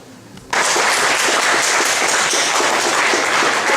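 Audience applause breaks out suddenly after a brief quiet moment, a dense, loud clapping that holds steady until the end.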